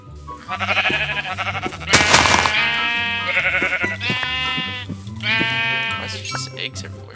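Blocky Minecraft sheep bleat repeatedly in a modded survival game, a string of loud, wavering bleats in quick succession with a short burst of noise between them, under a low, droning game background.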